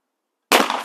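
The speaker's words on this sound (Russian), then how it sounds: "Сейчас вот сразу ребята стреляют, дуплетная стрельба" A single sharp shotgun blast at a sporting clays range during doublet shooting, loud and close, breaking abruptly out of silence and ringing on briefly with no talk.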